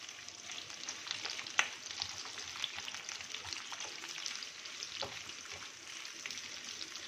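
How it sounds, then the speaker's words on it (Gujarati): Capsicum and onion pieces shallow frying in a pan give a soft, even sizzle with faint crackles and an occasional stirring tap, steady throughout and fairly quiet, with no talking. "નાખી અને સેલો ફ્રાય કરી લેશું"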